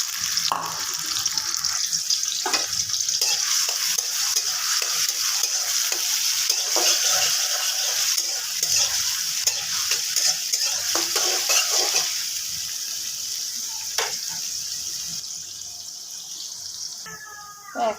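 Onions and bitter gourd frying in hot oil in a home kitchen, a steady broad sizzle running throughout with occasional stirring clicks, easing slightly toward the end, with no talk over it.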